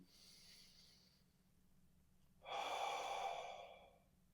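Close, quiet breathing during a neck and shoulder release exercise: a soft exhale, a pause, then one deep, airy in-breath, with no talk.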